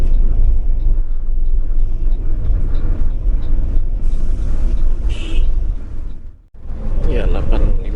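Interior of a bus travelling along the Trans-Sumatra highway between Jakarta and Bukittinggi at night, a steady loud engine and road rumble running throughout with a brief dip before resuming, and a voice talking over it.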